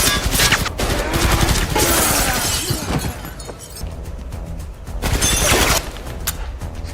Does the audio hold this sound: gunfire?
yes